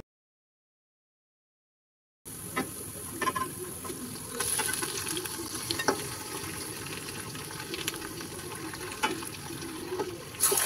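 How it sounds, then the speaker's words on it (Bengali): Marinated beef frying in oil with onions and whole spices, a steady hissing sizzle with occasional pops and stirring scrapes. It starts after about two seconds of silence and continues at a moderate, close level. "কিছুক্ষণের জন্য তেল পেঁয়াজের সাথে মশলা মাখানো এই মাংসটাকে ভেজে নিচ্ছি।"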